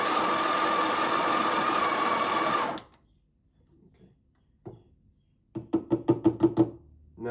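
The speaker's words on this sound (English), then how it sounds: "I'm just going to grind for a few seconds and get rid of that" A Breville Barista Express grinder whirs steadily for a few seconds, then cuts off abruptly, followed by a run of sharp rapid knocks as the grounds are tapped out, close and loud.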